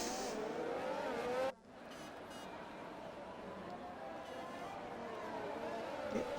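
Race cars rolling on a formation lap in a racing video game, an engine note rising and sweeping in pitch, cut off abruptly for a moment, then resuming as a softer, more distant drone with another rising whine near the end.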